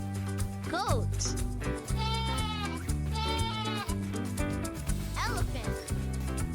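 A goat bleats in a few wavering, quavering calls spread across the passage, heard over a continuous, upbeat children's backing tune.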